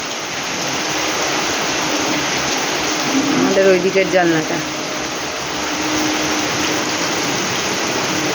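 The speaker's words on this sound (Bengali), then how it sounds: "তুমুল ঝড়ে বৃষ্টি হচ্ছে, একদম মুষলধারে বৃষ্টি" Heavy torrential rain pours down in a storm, a loud, steady, dense hiss filling the whole stretch, with a person speaking briefly over it midway.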